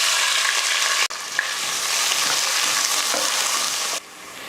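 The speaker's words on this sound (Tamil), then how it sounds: "நல்லா வெங்காயம் பாருங்கள் நல்லா வதங்கிருச்சு" Onions sautéing in hot oil for a thokku biryani, with cinnamon, cloves and green chillies in the pan, a steady loud sizzle with a brief dip near one second and a few soft stirring scrapes.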